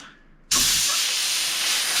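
A sudden loud burst of compressed air from an airline nozzle starts half a second in and hisses continuously, used to fit motorcycle handlebar grips.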